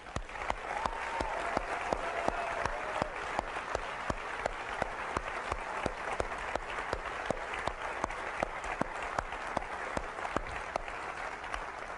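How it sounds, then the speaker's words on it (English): Sustained applause from a live audience at a 2003 Apple special event, a dense, even patter of many clapping hands with sharp individual claps standing out throughout, no talking. "I'd like to give them a round of applause, if that's okay."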